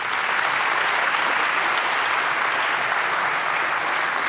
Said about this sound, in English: just judging by the applause, it sounds really attractive